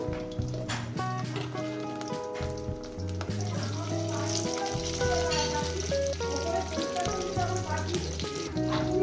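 Eggplant pieces fry in a pan for a tomato-brinjal bharta, a continuous close sizzle running beneath prominent background music.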